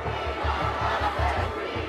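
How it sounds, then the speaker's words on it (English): An angry crowd outside Kensington Town Hall, gathered after the London tower fire, shouts and chants together in a loud, rhythmic roar. "A crowd gathers at Kensington Town Hall. People are very angry here"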